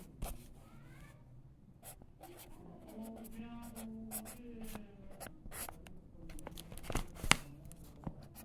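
A pen scratches across paper while a math question is written out by hand, soft irregular strokes close by with faint tapping, and a low voice murmuring intermittently in the background.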